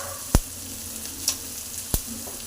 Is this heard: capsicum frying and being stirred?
yes